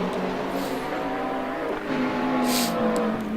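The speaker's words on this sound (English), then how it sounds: "It sounded like a Lamborghini." A GT3 race car with a Lamborghini-like engine note howls past at Mugello, a steady high-revving drone with a brief lift and pitch change midway, loud and continuous without speech.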